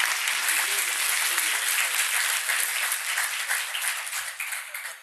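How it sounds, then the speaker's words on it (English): An audience at a public health panel event breaks into loud, steady applause for the panelists, a dense wash of clapping that holds for several seconds and thins toward the end. "I would appreciate if you would give a big applause to our panelists"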